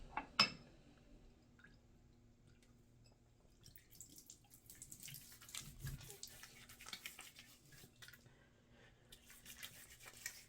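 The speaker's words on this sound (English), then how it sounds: "I'm gonna put this blue water on my face" Water splashed from a sink onto the face before shaving with a Dovo Bismarck straight razor, heard as soft, irregular wet splashes and drips against a quiet bathroom background.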